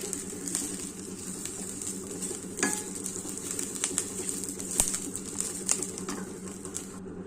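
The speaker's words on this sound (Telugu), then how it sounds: "పోపు దినుసులు వేస్తున్నానండి" Tempering spices for a ridge gourd dish sizzle in hot oil with a steady, soft crackle and a few sharper pops scattered throughout.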